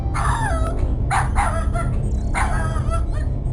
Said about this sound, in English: If the dog is barking, that means you can't go in without getting killed.